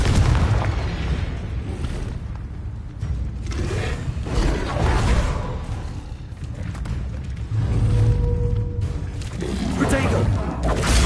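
Confringo spell explosions in the Hogwarts Legacy video game, repeated booming blasts and crackling bursts amid combat noise, with a voice shouting between them.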